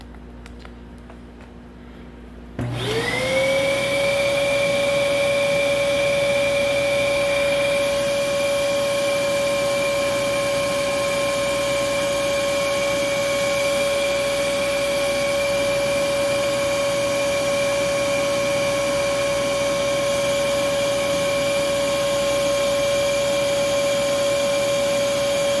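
Dyson DC11 vacuum cleaner switching on and running, rising quickly to a steady loud whine with a strong constant hum that holds for over twenty seconds.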